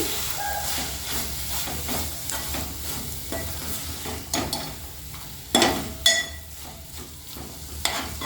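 Amaranth leaves (thotakura) frying in a pan, a continuous close sizzle and hiss with repeated spatula stirring scrapes and a few sharper clanks near the end, no talking.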